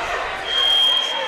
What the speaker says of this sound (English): So with the fire alarm going off, that's going to bring an official's timeout.